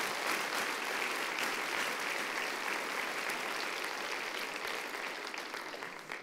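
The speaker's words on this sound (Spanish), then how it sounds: "Dale un fuerte aplauso al Señor" A church congregation gives a sustained round of applause to the Lord during a sermon, a thick, even wash of clapping heard at a moderate distance that tapers slightly at the close.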